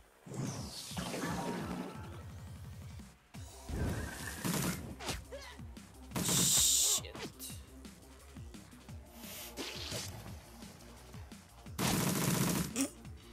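Shadowrun gunfire comes in several short, loud bursts separated by quieter stretches, some shots sharp and cracking, others heavier and booming, with whooshing effects in between.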